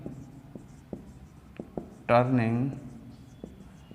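Chalk or marker tapping and scraping on a board during a physics lesson, with light sparse taps and a short stretch of talk in the middle.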